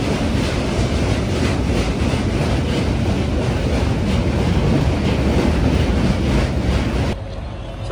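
Train pulling into Varanasi Junction, a loud steady roar of rolling wheels and carriages with faint rhythmic clatter, close and continuous until it drops away at the end.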